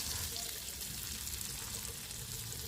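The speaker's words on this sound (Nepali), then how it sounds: "अब यो सबै चिजलाई गोल्डन ब्राउन नहुन्जेल मजाले भुट्नुपर्छ" Onions fry in a pan for a Malekhu-style Nepali fish curry, giving a steady, dense sizzling hiss that stays even and close throughout.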